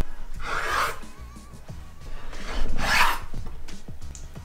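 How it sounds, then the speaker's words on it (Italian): Knife sawing through soft dorayaki pancakes filled with anko, giving two raspy, rubbing strokes with a slight crunch, close up, separated by quieter handling noises. "Tagliamo in dorayaki."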